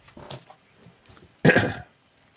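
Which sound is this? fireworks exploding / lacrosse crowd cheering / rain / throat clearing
throat clearing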